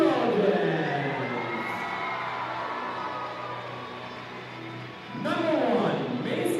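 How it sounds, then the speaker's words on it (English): A crowd at a high school volleyball team introduction cheers and shouts in a loud, sustained roar that dips briefly, then surges again, with an announcer's voice heard over it. "it's time to get on your feet and cheer as we introduce your Lady Trojans"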